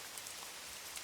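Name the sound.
heavy rain during a storm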